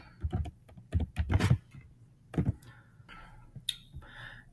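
Bursts of quick clicking keystrokes on a computer keyboard, typing text in short clustered runs with brief pauses, close and fairly quiet, with no talking.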